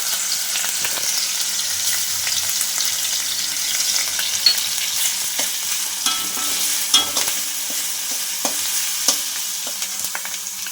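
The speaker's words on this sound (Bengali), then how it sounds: "এক মিনিটের মতো রসুনটাও নেড়ে নিয়েছি" Garlic and onion frying in a pan while being stirred, a continuous close sizzle with scraping and light clicks throughout, no talking.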